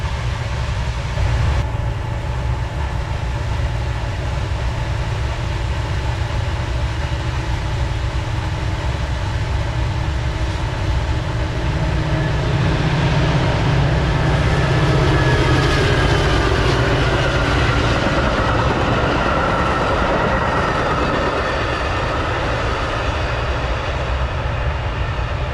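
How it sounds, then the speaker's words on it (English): Metra commuter train on the BNSF line, bound for Aurora, passes during a snowstorm, a steady loud rumble with wheel and rail noise building midway, mixed with the hiss of a nearby switch heater. "Aurora-bound Metra Commuter on the BNSF"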